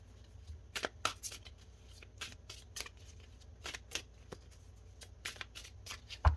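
Tarot cards shuffled by hand, with a series of quick, crisp riffling bursts at an uneven rhythm, close and fairly quiet.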